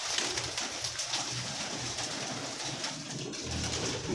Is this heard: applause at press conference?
no